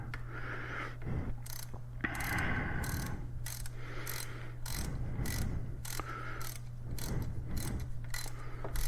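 A ratchet snugs bolts to 6 Newton meters while an LPR cam chain tensioner goes onto a Husqvarna 701, rapid clicking pawl bursts repeating in short strokes, close and distinct over a steady low hum.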